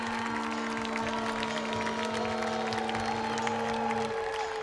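Oakland Ballers fans in a baseball stadium chant a sustained drawn-out "Lou" after a home run, a steady droning crowd sound under a constant hum that drops off near the end.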